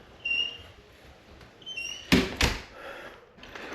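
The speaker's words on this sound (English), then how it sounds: "Close the door?" A door pushed shut with two close, solid thuds in quick succession, following quiet room tone and a few faint high squeaks.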